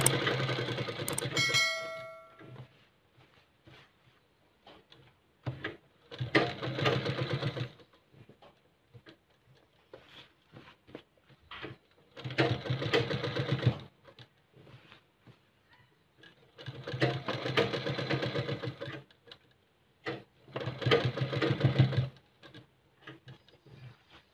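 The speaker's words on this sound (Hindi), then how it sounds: "अब मैं इसको यहाँ से सिलाई लगाऊंगा।" A sewing machine stitches a kurta in several bursts of a few seconds each, separated by quiet pauses with faint handling sounds. The machine is close and fairly loud, and no one speaks.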